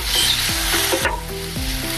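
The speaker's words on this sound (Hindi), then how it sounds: "हरी मिर्च को थोड़ा सा हमने भून लिया है।" Green chillies frying in a pan for oats upma, a bright loud sizzle with regular scraping stirs of a spatula, close up and without voices.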